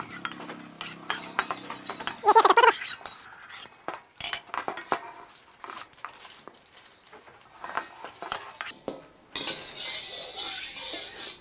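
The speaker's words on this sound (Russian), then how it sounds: "Теперь это масло надо раскрутить по всей сковородке." Oil is swirled around a new wok with scraping metal clinks and clattering knocks, irregular and close, with short pauses between bursts of movement.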